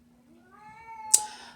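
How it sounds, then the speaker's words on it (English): Outdoors, a cat gives a single drawn-out meow that rises and falls, clear and fairly close, and a brief sharp noise comes right after it. "It sounded like I heard a cat outside."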